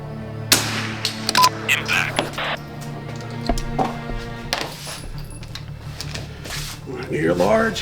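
Rifle shots ring off steel targets on an NRL22 precision rimfire stage, several sharp cracks spread across the span with metallic pings, heard under ongoing talk.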